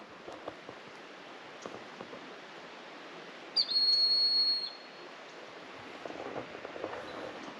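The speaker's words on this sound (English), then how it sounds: "See, that noise was a hawk." A hawk perched in a dead tree beside a river gives one clear, high whistled call lasting about a second, standing out over steady outdoor background noise.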